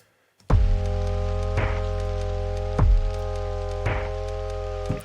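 Rain sample used as a layer in lo-fi music production: a steady hiss of falling rain mixed under sustained low synth tones, with soft thumping beats that periodically swell the texture. No voices.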